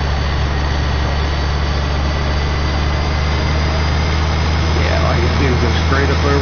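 A tractor engine in the Farming Simulator 15 video game drones steadily and loudly throughout, a constant low idling rumble with no break.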